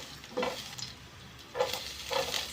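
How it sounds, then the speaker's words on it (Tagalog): Garlic sautéing for chicken adobo in a pan, with two or three short bursts of sizzle and stirring separated by quieter gaps, close and moderately loud, no talking. "Gisa ang bawang"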